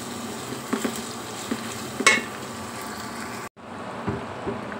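Spices, ground onion and dried chilli for a beef curry fry in a pot, a soft steady sizzle with a few light clinks and one sharper knock, briefly cutting out before resuming more quietly.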